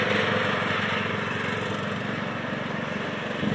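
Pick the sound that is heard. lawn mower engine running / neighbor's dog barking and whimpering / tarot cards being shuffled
lawn mower engine running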